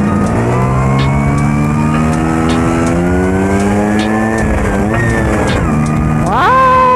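A Vespa scooter engine revs loud and close, its pitch climbing steadily, then dropping and surging again as gears are shifted, with a final rising rev at the end.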